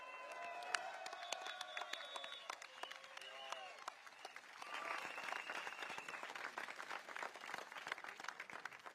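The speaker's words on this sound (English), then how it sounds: "Can we have one round of applause more for Leong Man?" A rally crowd applauds for speaker Leong Man at an outdoor election meeting, sustained scattered clapping under a voice speaking over a loudspeaker, swelling briefly in the middle and continuing to the end.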